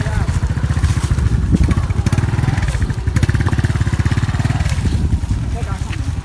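A motorcycle engine idles with a rapid, steady putter while standing in a river, close and loud throughout, with people talking over it.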